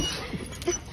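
A dog whimpers softly after a flight, short thin whines over background noise and murmured voices, brief and close.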